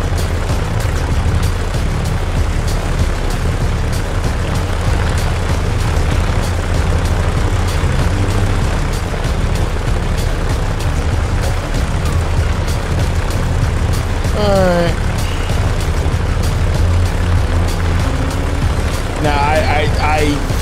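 A fighter aircraft's engine roars loud and constant during takeoff in the video game War Thunder, a dense, unbroken drone with a voice talking over it.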